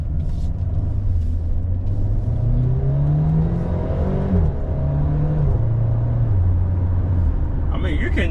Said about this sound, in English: you can actually hear the exhaust